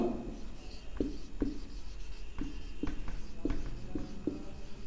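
Teacher writing a sentence on a classroom board during a live English grammar lesson, with a steady series of short taps and scrapes of chalk or marker at a moderate level, close by. No speech over the writing.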